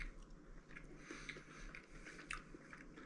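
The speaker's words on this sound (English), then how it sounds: "First I'm gonna try a little bit of that cake just by itself." Close, quiet biting and steady chewing of almond cake with crusty edges, soft moist mouth sounds repeating through the few seconds with no talking.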